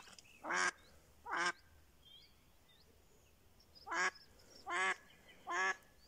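Duck and drake calling beside a canal at dawn, five loud harsh quacks in two groups, a pair then a steady run of three, each short and clear against quiet outdoor background with faint distant bird chirps.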